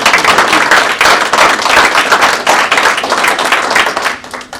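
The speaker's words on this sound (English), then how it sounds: "Let's give her another round of applause." Audience at a state of the cities event gives a loud, close round of applause, dense clapping pulsing steadily before tapering off at the end.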